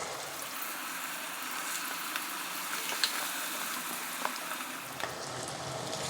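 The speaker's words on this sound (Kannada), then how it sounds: "ಈ ರೀತಿ ನಾವು ರೆಡಿ ಮಾಡಿಟ್ಟಿರೋ ಗೋಬಿನ ಒಂದೊಂದಾಗಿ ಎಣ್ಣೆಗೆ ಬಿಡ್ತಾ ಹೋಗಿ. ಇದು ಕಂಪ್ಲೀಟಾಗಿ ಫ್ರೈ ಆಗಬೇಕು." Cauliflower gobi pieces for street-style Gobi Manchurian fry in hot oil, a steady close sizzle with small crackles and pops throughout.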